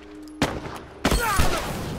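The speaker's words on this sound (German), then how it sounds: "Oh, super Schuss, Ellie." Two sharp gunshots in The Last of Us Remastered ring out about half a second apart, the second followed by a lingering echoing tail.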